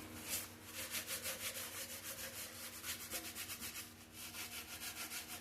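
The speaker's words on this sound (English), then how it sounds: "Cut that aluminum." Aluminum on a distributor body being cut back with a rhythmic rubbing, rasping stroke, steady back-and-forth scrapes repeating quickly and quietly at close range with no talking.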